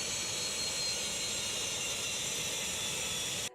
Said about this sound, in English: Both the planes arrived over the runway at the same time.